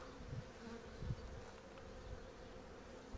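Honeybees buzzing faintly around an opened beehive while a frame is inspected, a soft continuous hum with occasional nearer passes of individual bees and no talk.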